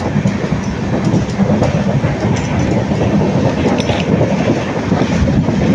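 Steady rumble of a moving night train from Karur to Bangalore, heard from inside the carriage, with rhythmic clatter of wheels on the rails and a constant roar.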